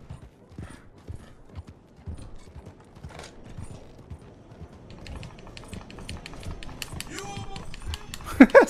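A horse trots slowly out of town in Red Dead Online, steady clip-clop hoofbeats running under ambient game sounds, with a few louder knocks near the end.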